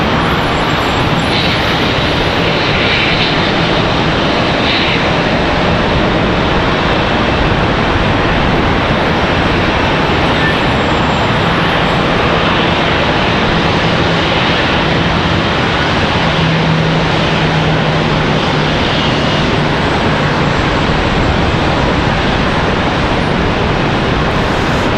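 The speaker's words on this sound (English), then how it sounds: "United 737." United Boeing 737 at Charlotte Douglas airport, a loud continuous jet roar mixed with broad wind-like rumble that holds steady throughout.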